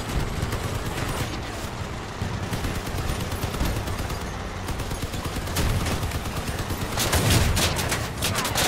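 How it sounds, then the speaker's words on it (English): Vehicle weapon fire in the combat game Crossout: dense continuous rapid gunfire lasting throughout, loud and steady, with a heavier burst of shots near the end and no talking. "Oops, I was shooting the wrong guy."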